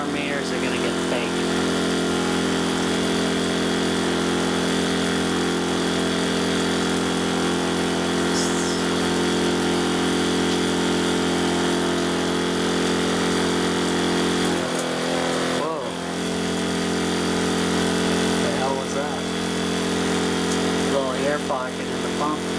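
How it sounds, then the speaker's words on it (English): An Eco Temp water heater pump runs with a steady, loud mechanical hum throughout, while people talk intermittently over it. "Pocket in the pump."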